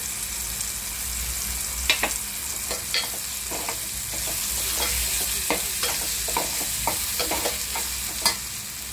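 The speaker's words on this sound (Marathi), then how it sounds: "आता मी लाल मसाला टाकत आहे, तिखट" Red chilli masala sizzles in hot oil while cooking a val bean curry, a loud steady frying hiss broken by frequent scraping stir clicks close by, with no talking.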